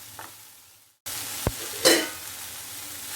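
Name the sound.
sautéing green, red and yellow capsicum in a pan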